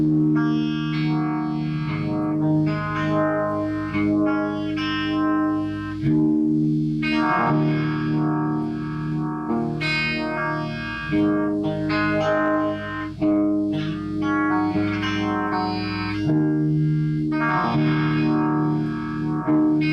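A sustained, distorted electric guitar playing chords and notes through a uni-vibe pedal at very low speed and full intensity, with a slow, deep pulsing warble, full and loud throughout with no talking.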